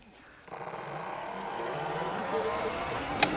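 Ebox V2 electric car running at full throttle, a steady whining motor and rushing road and wind noise building after a quiet start and holding loud to the end, with a brief sharp tick near the finish.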